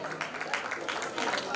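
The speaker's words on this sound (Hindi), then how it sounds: "Simran Sodhi ke liye zordar taaliyan ho jaye ek bar." A live audience at a Punjab talent hunt grand finale claps for a contestant. The applause is a modest, steady patter of many hands with a few louder bursts, continuing through the whole moment.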